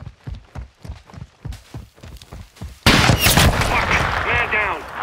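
In the Call of Duty: Modern Warfare 2 campaign, rhythmic running footsteps give way to a sudden loud sniper gunshot, followed by dense, noisy combat sound with shouting voices.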